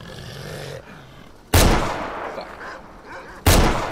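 Two loud, sharp Desert Eagle pistol shots from the S.T.A.L.K.E.R. Call of Chernobyl game ring out about two seconds apart, each followed by a ringing decay, over a low ambient background.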